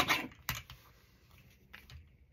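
Scissors cutting magazine paper: a few sharp, close snips with short papery rustles between them, faint and sparse, without talk.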